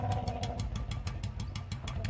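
A Bullet motorcycle idles close by as it is taken out, its engine throbbing in a steady low thump with regular high ticking pulses throughout.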